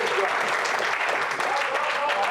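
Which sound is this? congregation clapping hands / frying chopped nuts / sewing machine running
congregation clapping hands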